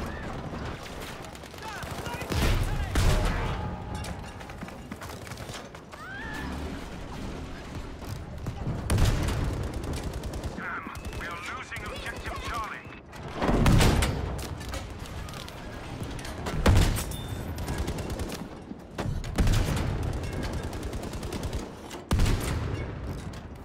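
Battlefield V conquest match with repeated bursts of machine-gun and rifle fire, dense rattling volleys and sharp shots scattered across the scene, some close and loud, others farther off, with game noise throughout.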